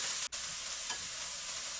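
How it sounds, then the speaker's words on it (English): Loud, steady sizzling of lo mein noodles being stir-fried in a hot wok, with a brief scrape partway through; no talking. "Stir fry for about a minute."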